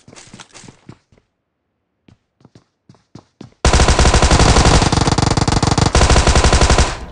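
Gunfire in the battle-royale video game PUBG starts with scattered single shots and short gaps, then turns into a loud, sustained burst of rapid automatic fire.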